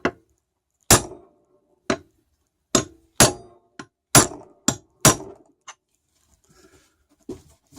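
Sharp metallic strikes ring out one at a time, about a dozen irregularly spaced blows of a 16-ounce hammer on a fairly sharp chisel, close and clear against silence.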